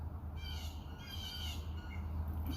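Crows caw outdoors in Finland, giving a few rough, moderately distant calls over low background rumble.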